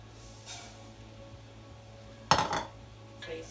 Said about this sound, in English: So you stir up the rice into the onion and the oil.